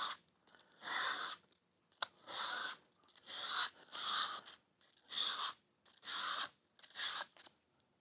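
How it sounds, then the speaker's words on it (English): Sandpaper of 120 to 220 grit is rubbed over a guitar surface being built by hand, giving about eight rhythmic, raspy scraping strokes separated by short pauses, close and moderately quiet. "I want to rough up the surface just a bit. I'm going to find a bit of sandpaper, 120 to 220 grit."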